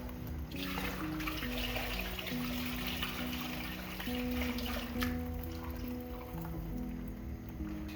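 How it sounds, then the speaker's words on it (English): Water poured into a simmering coconut fish curry as it is thinned out, a steady trickle and splash running continuously through the clip over a low, busy kitchen background. "I'm also going to thin this out with some water"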